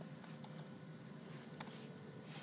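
Short burst of typing on a computer keyboard, a few quick light key taps in a quiet room, faint and close with steady background hiss.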